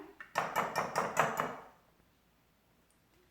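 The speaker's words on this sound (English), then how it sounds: "Make sure you break up the egg yolk. Whisk around." Egg yolk whisked in a bowl for homemade soft pretzels, a quick burst of about six rhythmic clinking strokes close by, then it stops and goes quiet.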